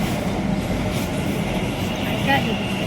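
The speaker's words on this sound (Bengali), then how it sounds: "কিছুক্ষণের মধ্যেই চলে আসবে ট্রেন এসে গেছে" A metro train pulls into a station in Kolkata, a steady loud rumble of rail noise filling the platform with a brief brighter squeal near the end, while people talk nearby.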